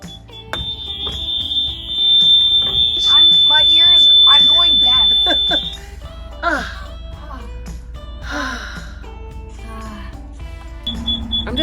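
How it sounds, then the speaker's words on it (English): A shrill, piercing RV propane detector alarm shrieks continuously for several seconds, very loud and close, then stops; people talk and exclaim around it, and short beeps follow. "Something's wrong with our propane detector, or it's actually detecting propane"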